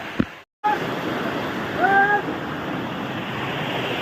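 Monsoon rainwater pours down stone steps on Girnar hill near Junagadh, a loud continuous rushing roar with wind buffeting the microphone, broken by a brief dropout early on and a faint whistle-like tone in the middle.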